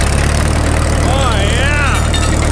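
A Caterpillar D2 bulldozer, revived after sitting for twenty years, runs loud and steady in fifth gear while a voice talks over the engine.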